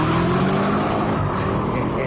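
A 2010 Chevy Camaro SS with a 6.2-litre V8 pulls hard under acceleration, giving a loud, dense, continuous engine roar close by.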